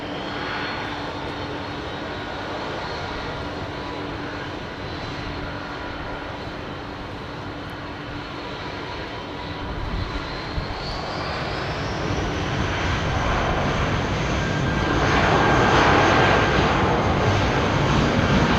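An Airbus Beluga XL departs Heathrow Airport, its engines giving a loud, continuous roar that holds steady and swells stronger toward the end, with no talk over it.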